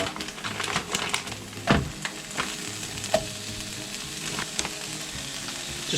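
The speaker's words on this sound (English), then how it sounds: "We're going to now chuck in these mushrooms and sprinkle some onions in there as well." Mushrooms and onions sizzle and crackle in a frying pan left with steak juices, a steady close hiss with scraping stirs and clatters of a utensil, and no talking.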